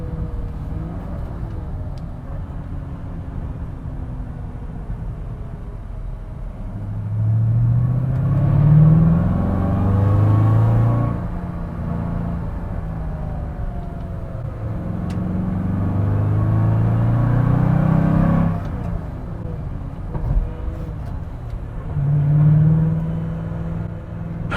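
A 1968 Mustang Fastback Cobra Jet V8 on a race circuit, its engine rumbling and revving in rising and falling surges, close and loud, with no speech.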